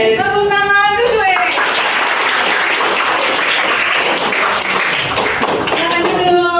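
A class of students (7E) in a school classroom claps together in a dense, steady burst lasting several seconds, with voices briefly audible at the start and end.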